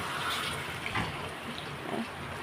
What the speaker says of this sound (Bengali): এখন আমি জল দিয়ে দেবো এই যে জল গরম জল তো দিয়ে দিলাম গরম জলটা